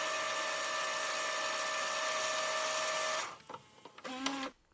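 Power tool removing three bolts from a Turn R20 Sim & Track wheel rim mounted on an Accuforce V1 sim racing wheel base: a steady high whine running for about three seconds, then short bursts and stops as the bolts come free.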